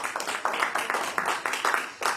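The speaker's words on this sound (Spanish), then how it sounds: "Entonces le sale un aplauso al Señor." A church congregation breaks into brief, scattered clapping during a sermon, a dense patter of hand claps that swells and dips in uneven bursts for a couple of seconds, moderately loud and close.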